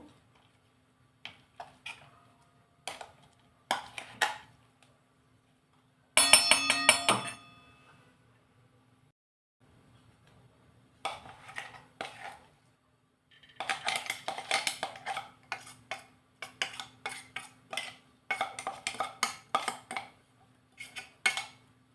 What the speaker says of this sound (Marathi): हे जे वाटलेलं बॅटर आहे ते या भांड्यामध्ये काढून घेऊ